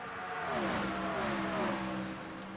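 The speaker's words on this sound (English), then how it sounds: "You'd hear the raw engine of Vlad Tokarev as he's trying to brake." A NASCAR race car in a sim racing game on the Mid-Ohio circuit drops revs under heavy braking, its engine note sliding downward in a loud, continuous snarl before fading.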